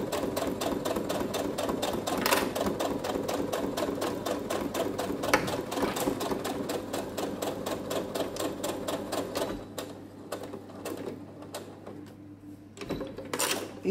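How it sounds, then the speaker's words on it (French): A sewing machine stitches a seam on a fabric Christmas drawstring pouch, running steadily with rapid rhythmic needle clatter, close and loud, broken by short pauses and restarts for the forward and reverse stitching near the end. "piqûre à 1 cm du bord, point avant, point arrière, pour débuter et pour terminer sa couture."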